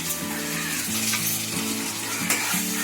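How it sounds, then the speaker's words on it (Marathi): Tomato tossed into browned onion in a hot pan for a chutney, frying with a steady loud sizzle and spatter, plus a rhythmic stirring pattern under it, with no voices. "आता कांदा ब्राऊन झालेला आहे, आता याच्यामध्ये मी टमाटा टाकते."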